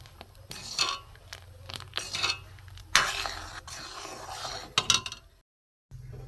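A spoon scrapes and clinks against a pot while semolina batter is stirred with black pepper, whole cumin and spices, in irregular bursts that stop briefly near the end.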